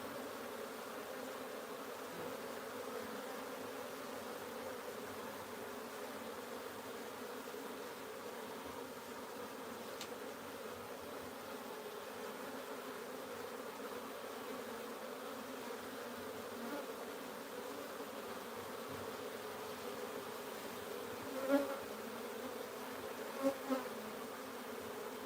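Wild bees buzzing steadily and softly throughout as a hive is moved to a new home, a continuous insect drone with a few faint knocks near the end.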